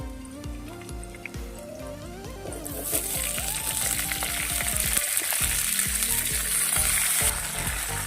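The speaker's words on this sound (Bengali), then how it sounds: "সবজিগুলো আমি কিছুক্ষণ ভেজে নিচ্ছি" Chopped vegetables are tossed into hot oil seasoned with panch phoron and chopped onion, and a loud crackling sizzle bursts up and keeps hissing steadily, with a few stirring scrapes in the pan.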